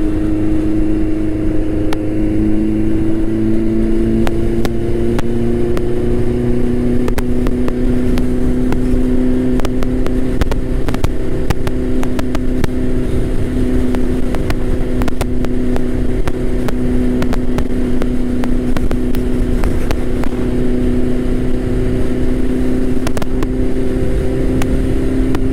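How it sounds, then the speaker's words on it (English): Hayabusa turbo motorcycle cruising in sixth gear, a loud steady engine drone with slowly shifting pitch and constant wind rush, close and continuous with no talking. "I'm in sixth gear and I'm driving, cruising basically."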